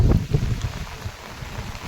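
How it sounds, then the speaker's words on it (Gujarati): Strong wind buffets a microphone outdoors in a village after heavy rain, gusty low rumbling that surges loudest at the start and then keeps up in uneven bursts. "અત્યારે પવન અતિ ભારે પવન છે"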